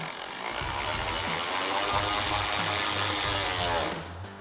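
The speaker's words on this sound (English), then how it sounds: "we'll grab our factory 8mm screw with our 8mm socket on our ratchet" A ratchet with an 8mm socket runs a factory 8mm screw into a fender flare on a RAM 1500 pickup, giving a steady close clicking and rasping that holds for about four seconds before stopping.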